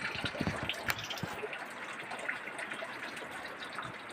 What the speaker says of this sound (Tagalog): Maulan nga kagabhion, bagyo guys. Lubog na pod ang tubig.